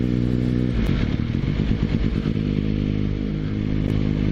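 A motorcycle pulls briskly away and accelerates, its loud, close engine droning steadily with rising tone as it gathers speed, a rough clattering texture riding on the steady exhaust note; no talking.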